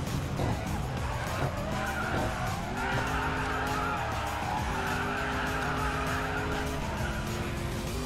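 An Audi RS7 drifting in the mobile racing game Racing Master, its tires skidding with a steady screech over a droning engine note that holds for the whole stretch.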